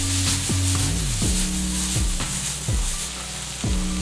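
Tomatoes and mixed vegetables cook over low heat in a pan for ratatouille, a steady close sizzle and fry with repeated clinks and scrapes of a utensil stirring against the pan.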